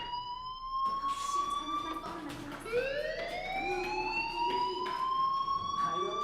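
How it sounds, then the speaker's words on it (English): Fire alarm sounding in the Life Is Strange video game, a steady electronic tone that keeps sliding up and settling, ringing continuously under a man's speech. "Hey, do you hear that fire alarm? That means you should be outside."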